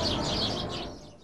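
Birds chirp in short, bright bursts near Christmas tree scaffolding above a Manhattan skating rink, over a dense background hum of the city that fades slightly toward the end.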